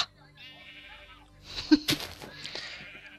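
A Minecraft sheep bleats in a drawn-out wavering call, followed by a few short sounds and clicks of in-game activity at moderate, fairly close volume.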